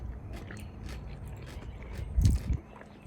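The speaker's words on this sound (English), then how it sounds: "I like how the cabbage still has some crunch." Crunchy cabbage in a noodle dish is chewed close up, a few soft crisp bites building to a louder crunch near the end, with no talking.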